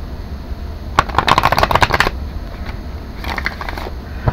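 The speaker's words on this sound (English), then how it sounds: "while I'm shuffling these cards" Tarot cards are shuffled by hand: a close, brisk burst of riffling and slapping cards, then a quieter stretch of softer shuffling, with no speech.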